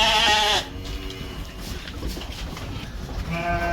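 Dorper sheep in a feeding flock bleat loudly close by at the start and again near the end, with a quieter murmur of the animals in between.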